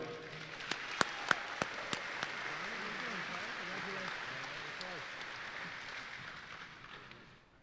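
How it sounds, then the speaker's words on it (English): An audience at a Texas DOT safety banquet claps for Tony, a safe operator, starting with a few sharp individual claps that build into steady, moderately distant applause before fading away near the end. "All right, let's give Tony a round of applause."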